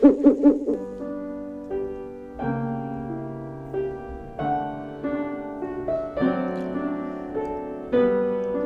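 Owl hoots open a radio show jingle, a few soft rounded calls at the start giving way to a sustained tonal musical sting that swells in steps and carries through to the end.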